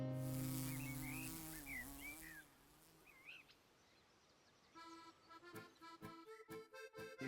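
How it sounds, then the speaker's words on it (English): Honeybees buzz and crawl in a hive, a low droning hum with fluctuating intensity and some chirping birds nearby, followed by scratchy crawling and tapping noises close up. "You see, the bees are just going about their own business."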